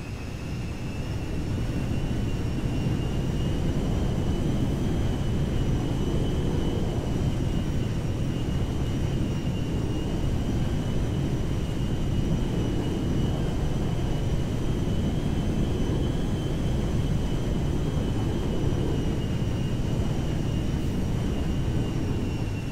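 A fixed-wing airplane in the GTA V video game takes off with a steady, loud, unbroken engine roar and a faint high whine that holds at an even level throughout, with no talking.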